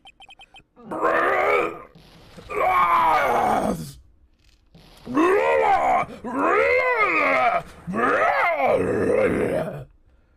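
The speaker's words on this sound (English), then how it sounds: "That scream! I've heard that scream before!" Pained, strained vocal cries from the courtroom video game Phoenix Wright: Ace Attorney, five drawn-out groaning screams of a second or two each, loud and close, separated by short silences.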